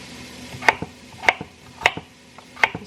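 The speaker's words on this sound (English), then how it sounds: "I'm just going to chop them in" A knife chops russet potatoes into cubes on a cutting board, giving four crisp, evenly spaced thuds with small follow-up taps, close and clear in a quiet kitchen.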